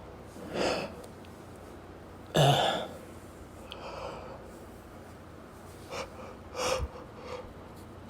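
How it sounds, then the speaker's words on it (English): A woman yawning while alone, with a few breathy, drawn-out exhalations and stretched vocal sighs spaced apart, close and quiet over a hushed room. "The yawns today have been so bad."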